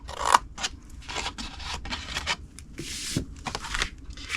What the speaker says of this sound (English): cut it to the first score line, next score line, cut it to the first score line, and then wedge each side of the square